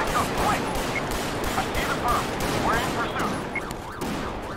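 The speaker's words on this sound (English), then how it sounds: "He just starts shooting at us" Gunfire in GTA 5 with the LSPDFR police mod, an officer on highway patrol being shot at: repeated sharp shots at a steady rhythm over a busy game mix, with someone talking excitedly over it.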